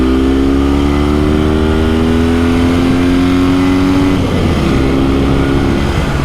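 A 1967 Norton Dominator 650 SS classic British motorcycle engine revving loudly up close, a steady rising drone that climbs in pitch for about four seconds, then drops and settles back into a rougher idle.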